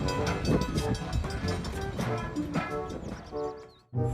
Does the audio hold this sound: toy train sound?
yes